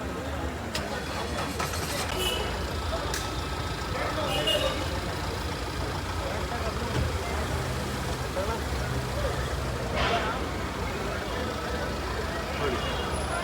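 A new Skoda Kylaq car moves forward, its engine giving a steady low rumble throughout, with people talking over it.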